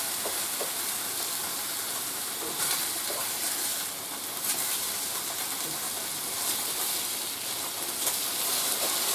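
Onion and fatty pork sizzle in a skillet, a constant close frying hiss with scattered crackles and occasional scraping stirs.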